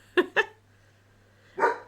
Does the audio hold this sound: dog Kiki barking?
yes